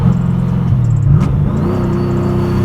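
A supercharged SVT Mustang Cobra with 700 wheel horsepower accelerates at full throttle, its engine heard loud and close from inside the car. The pitch dips briefly at a shift, then holds a steady, rising drone with faint supercharger whine above it.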